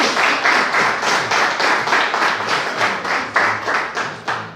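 A church congregation gives a burst of rhythmic applause, many hands clapping together in a steady beat for several seconds, fairly close and filling the room.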